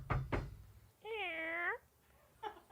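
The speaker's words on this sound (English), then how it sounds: "That's our cat." A cat gives a single clear, drawn-out meow close by, between a couple of knocking thuds at the start and a brief voice sound at the end.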